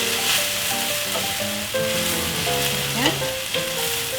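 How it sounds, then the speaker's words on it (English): Soy sauce being stirred into a hot pan, sizzling steadily and loudly with scraping stir sounds, while soft background music plays throughout and a voice briefly speaks. "Stir the sauce in."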